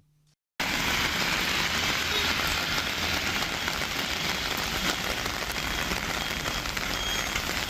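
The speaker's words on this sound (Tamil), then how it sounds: "சுமார் 1 மணி நேரம் பலத்த காற்றுடன் கனமழை கொட்டி தீர்த்தது" Heavy rain driven by strong wind starts abruptly after a brief silence and then pours as a dense, steady hiss and roar that stays loud and unbroken to the end.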